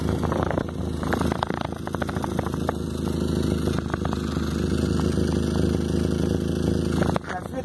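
A car engine idles steadily to warm up after an exhaust repair, a continuous low rumbling drone heard close with no break.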